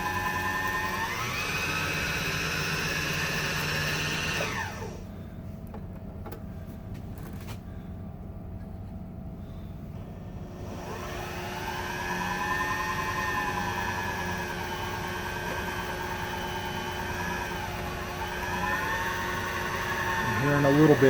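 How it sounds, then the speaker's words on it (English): A home sewing machine winds a bobbin with a steady whirring motor hum that cuts out for several seconds, then resumes and carries on evenly, with a voice talking over it. "on your first bobbin, you need to wind it by itself"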